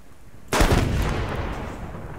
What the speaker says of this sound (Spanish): Vamos a dispararle a la Claymore a ver qué pasa.